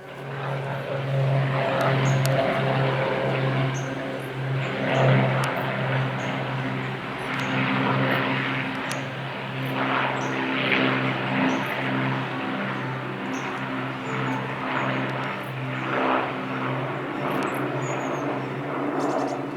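A propeller aircraft drones overhead above a carp fishery at Doggets in Rochford, a steady, fairly loud engine hum with a broad rumble that persists throughout, swelling slightly as it passes.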